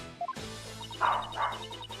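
A dog barking twice in quick succession nearby, fairly loud against a quiet background hum, with faint chiming game sounds underneath.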